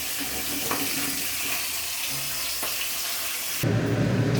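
A fish head fries in hot rice bran oil, sizzling and crackling steadily, with the frying hiss swelling louder near the end; no one speaks.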